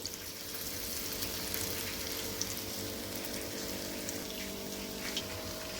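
Small cowpea bondas deep-frying in hot oil: a steady, dense bubbling hiss that stays even and fairly quiet throughout, with no voices.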